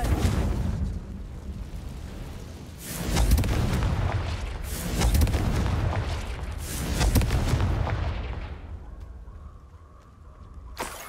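Repeated fiery blasts from the Confringo spell in Hogwarts Legacy, several deep booming explosions roughly every second or two, loud and close, fading into quieter ambience at the end.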